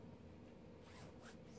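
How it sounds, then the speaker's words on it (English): A clothing zipper is pulled closed in one quick, close, quiet run that lasts just over a second, with no talk over it. "zip this up"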